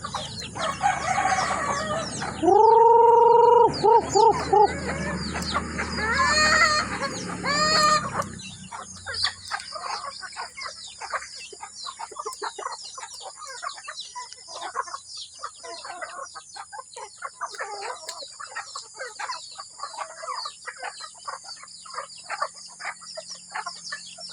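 Backyard chickens cluck loudly while a rooster crows close by, then a steady chatter of clucking and chirping flock sounds fills the rest.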